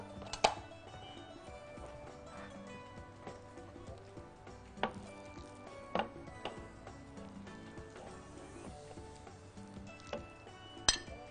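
Ingredients for homemade luncheon meat are dropped into a food processor bowl, giving a quiet series of scattered clinks and knocks of utensils against the bowl, spaced irregularly with no talk.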